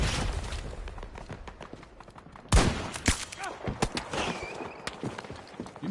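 Battlefield 2042 gunfire crackles in scattered bursts and single shots, some near and sharp, others more distant, mixed with footsteps and other game sounds.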